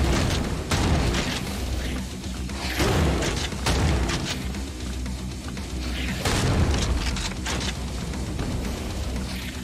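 Repeated shotgun blasts in the video game Hellbound, heavy booming shots spaced a couple of seconds apart over a dense, continuous bed of game noise.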